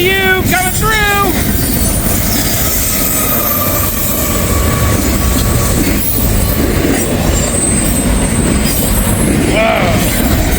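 A CSX freight train with double DPU locomotives passes close and loud in Kentucky, a steady roar of rolling wheels and rail noise with squealing flange screeches and short horn-like tones at the start and end.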